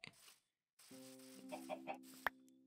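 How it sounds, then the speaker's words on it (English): Minecraft chickens cluck in a short series of soft, close calls in a cozy game world, with no talk over them. "Oh, there's a chicken."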